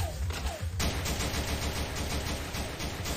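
Rapid bursts of automatic gunfire from the flash game Madness Project Nexus in arena mode, a dense, loud rattle of repeated shots running almost continuously after a brief quieter start.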